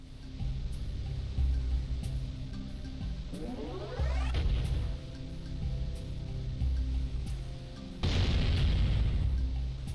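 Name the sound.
turret firing and explosions in Jak and Daxter video game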